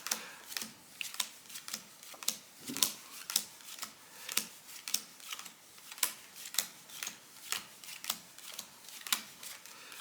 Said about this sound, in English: I'm going to shuffle or deal out all of the cards one by one